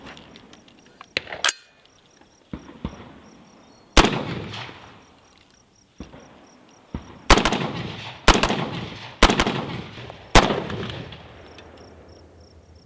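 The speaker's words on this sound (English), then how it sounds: "And just like that, 10 rounds is gone in a flash." A Black Rain Ordnance New York compliant rifle fires ten loud, sharp rounds outdoors, spaced irregularly about a second apart, each crack trailing off in echo.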